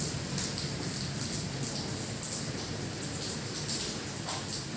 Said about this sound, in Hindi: चलो बारिश हो रहा है, चलो।